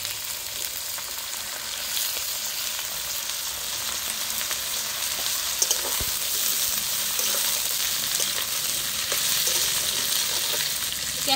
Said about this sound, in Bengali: চাউমিনের সবজি বেশি ভাজতে হয় না, 2 মিনিটের মতো ভাজলেই হয়ে যায়